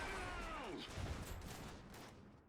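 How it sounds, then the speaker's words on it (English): Heavy cannon fire erupts in the World War-era strategy game Iron Harvest 1920, a dense barrage of booming blasts running across the whole clip, with faint voices mixed underneath. "he's definitely being attacked by the cannon out there"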